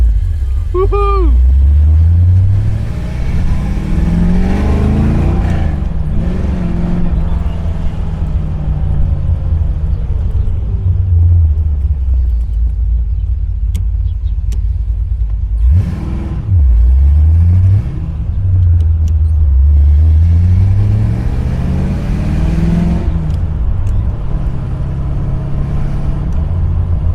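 A 1968 Chevrolet Corvette engine rumbles and revs while driving, with its pitch rising and falling through repeated accelerations. The engine is loud and close, and people talk over it.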